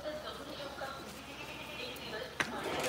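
Usmanabadi goats bleating on a goat farm, mixed with people talking over a steady outdoor background, with a short sharp knock near the end.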